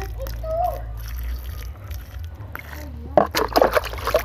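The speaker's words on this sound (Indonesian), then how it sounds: "satu hari sekali kita siram seperti ini" Water sloshes and splashes as katuk and spinach plants grown from kitchen scraps get their daily watering, a soft pour early then a burst of splashing near the end, with a person talking over it.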